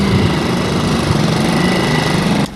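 Motorcycle taxi engine in Yaoundé, a steady, loud, close buzzing drone of a small light engine that drops off sharply at the very end.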